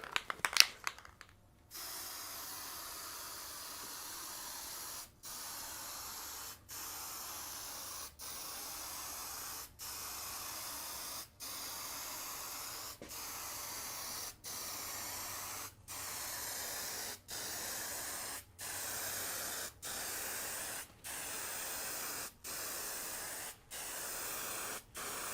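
Spray gun laying a second coat of Varathane clearcoat over a pinball playfield, a steady hiss broken by short regular pauses between passes, close and continuous, with no talking.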